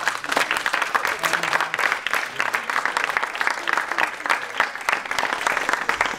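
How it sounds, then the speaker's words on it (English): An audience claps for a school Year 7 performance, a lively, fairly loud burst of applause with crisp individual claps, continuing steadily to the end. "I think we'll give the Year 7 another huge round of applause, please."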